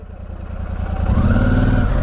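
A heavy motorcycle engine runs close by on a riding route in Uttarakhand, a low throbbing rumble that grows louder and steadier over two seconds.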